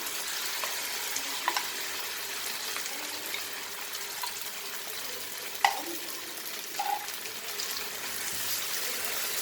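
Pork and masala fry in a pan with a steady, close sizzling hiss, broken by a few faint spoon clicks, no voices.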